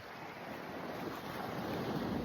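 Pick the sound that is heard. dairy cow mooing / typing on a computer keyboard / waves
waves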